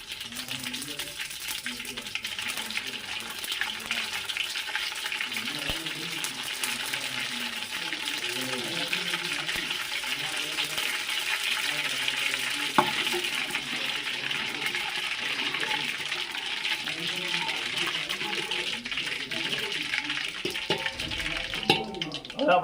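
Whole cumin and mustard seeds fry in hot oil for a khichdi tempering, producing a continuous crackling hiss throughout, with a voice talking faintly underneath.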